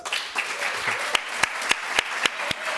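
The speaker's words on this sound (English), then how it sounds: "And a big applause, please." Audience at a literary reading and festival event applauding the author, a steady wash of clapping with several loud, regularly spaced claps ringing out near the microphone.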